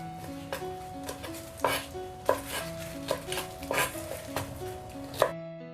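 A knife chops mustard greens piece by piece on a cutting board in a steady rhythm of crisp, close thuds, about ten cuts over soft background music.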